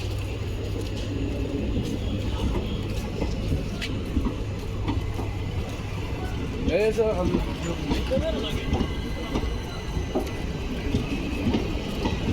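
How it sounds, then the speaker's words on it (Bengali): The long Dullavcherra–Guwahati express rolls steadily through Baregram station in Assam, a continuous rumble and clatter of wagons with a faint squeal, while someone talks over it. "খুব লম্বা ট্রেন।"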